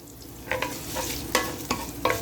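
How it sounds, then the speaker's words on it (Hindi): Curry leaves, cumin, fennel and green chilies fry in hot oil for roasted poha chivda, giving a constant close sizzle with a few spoon scrapes and taps. "और इनको 40 सेकंड तक फ्राई करेंगे"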